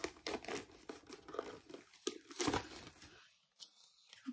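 A newly bought camera's box being opened by hand, with plastic packaging crinkling and tearing in bursts of close, crisp rustling separated by brief quiet gaps.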